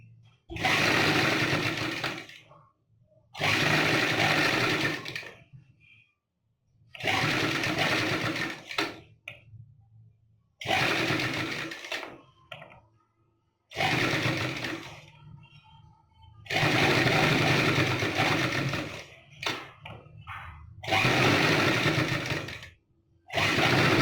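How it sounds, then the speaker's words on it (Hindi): Sewing machine stitching lace onto the back neck of a blouse, running in seven loud bursts of rapid whirring separated by short pauses, close and alone without talk. "इस पर एक सिलाई चला दें सेंटर में इसी के"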